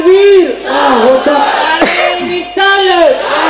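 A crowd at a religious gathering shouts back in unison to a takbir call, with loud bursts of many raised voices chanting together, one near the start and another toward the end.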